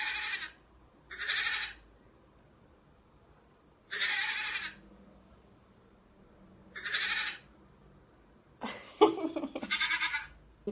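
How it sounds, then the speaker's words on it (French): A recording of goats plays five loud, nasal bleats, each about half a second long and separated by pauses of a second or more, with a quiet hum underneath. "je tape sur le mot chèvre et ça m'amène vers des cris de chèvres"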